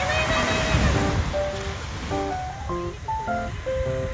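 Loud, continuous surf roar of sea waves washing in on a beach at Nha Trang, Vietnam, with faint voices and a few brief tonal sounds over the rushing water.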